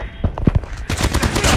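Rapid automatic fire from an ICR-1 rifle in a first-person shooter, a few spaced shots at first, then a fast, continuous, punchy burst of close, loud rounds.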